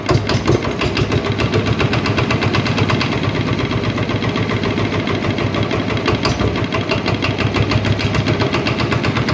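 A Mitsu 11 diesel engine rated at 11 HP runs steadily, a loud, close, rapid thumping chug with metallic clatter that holds an even rhythm throughout, with no talking.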